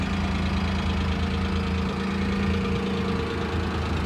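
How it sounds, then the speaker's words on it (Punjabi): A Maruti 800 engine idles steadily with a low, even rumble and faint rhythmic knock, close by and constant throughout, with no talking. "ਪੂਰਾ ਟਨ ਟਨ ਬੋਲਦਾ ਇੰਜਨ"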